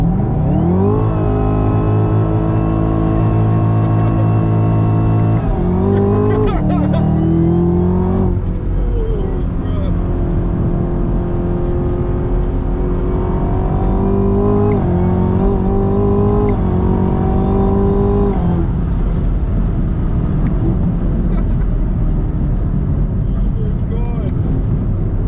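Chevrolet Camaro ZL1 1LE engine roars loud and close from inside the cabin, pitch climbing through several gears with brief dips at each shift, held strong for the whole stretch.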